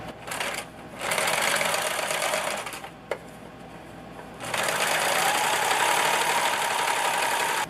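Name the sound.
sewing machine top stitching fabric ends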